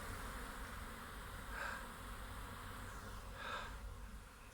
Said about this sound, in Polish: masa pszczół jest z pyłkiem